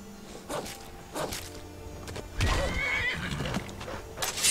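A horse in Skyrim neighs and whinnies several times amid clip-clopping hooves, fairly close and moderately loud with no talk over it.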